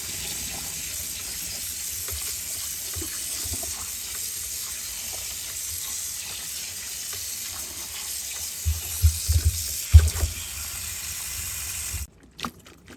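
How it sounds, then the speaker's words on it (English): Cold tap water running into a kitchen sink for rinsing while making lasagna, a steady hissing stream with a few clattering splashes near the end before it cuts off. "Go ahead and wet it with cold water."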